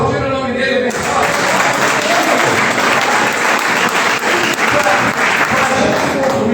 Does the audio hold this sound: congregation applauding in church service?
yes